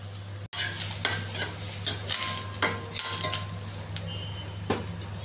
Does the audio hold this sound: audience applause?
no